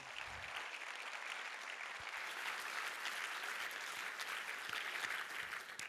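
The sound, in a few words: audience clapping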